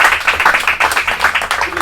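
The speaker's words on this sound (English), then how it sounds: "Round of applause for him." Audience applause at a real estate personal branding seminar, a steady dense patter of many hands clapping at close range for about two seconds, with no talk over it.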